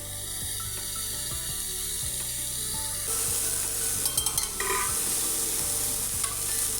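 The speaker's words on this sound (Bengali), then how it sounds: "এবারে কুমড়োটাকে একটু নেড়ে চেড়ে ভেজে নিচ্ছি।" Pumpkin pieces stirred and fried in a pan, a continuous close sizzle with rhythmic spatula scrapes, growing a little louder midway with a brief cluster of metallic clatters.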